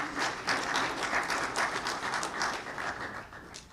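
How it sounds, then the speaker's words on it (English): A crowd applauds steadily at a youth hockey draft ceremony, a dense patter of many hands clapping that swells and eases slightly without stopping. "We're almost done clapping."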